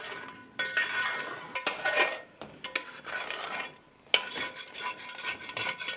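A spoon scrapes and clinks against a pan while chicken changezi is stirred with cream and kasuri methi, in close, irregular bursts of metallic rubbing separated by short pauses.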